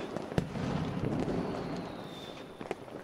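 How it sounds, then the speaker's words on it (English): Fireworks crackle and pop in the distance at a drive-in, sharp bursts scattered over a steady rushing background. "then the fireworks go off"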